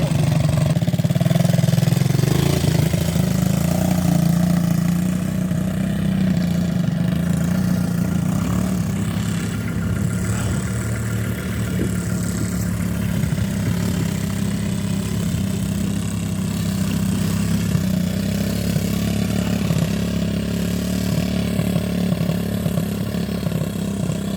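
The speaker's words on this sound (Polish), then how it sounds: "Widzowie, już odpaliliśmy kłada, patrzcie." A quad ATV engine runs steadily after being started, its loud, close, rough drone holding almost constant with slight rises, heard alone outdoors on a farm field.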